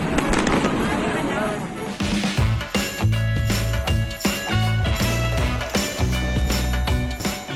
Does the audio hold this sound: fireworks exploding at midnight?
yes